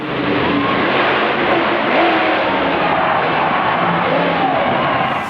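Monster truck engines roar at a Monster Jam arena event, a loud, continuous, broadband rumble that holds steady without pause.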